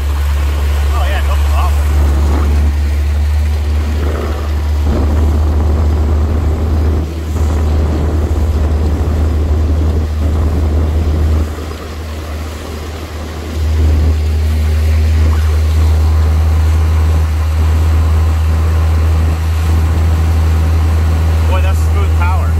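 A motorboat engine drones steadily and loudly throughout as the fully loaded boat planes off the Baja Peninsula, a deep constant hum with water and wind noise, briefly dipping in level midway.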